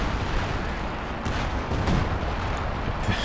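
Artillery fires in a World War II video game match, with dull booms and crackling bursts layered into a dense, continuous rumble of battle at moderate loudness.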